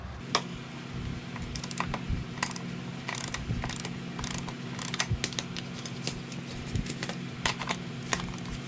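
A socket ratchet loosens the nut holding the rear wheel shaft on a first-generation Yamaha VMAX motorcycle, producing a faint, steady run of rapid clicking pawl ticks over a low background hum, with no talking.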